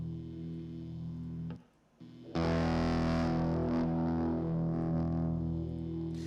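Electronic music passed through a distortion plugin pushed hard for harshness, a sustained buzzing tone that drops out briefly then returns louder and grittier, thick and saturated across the whole range.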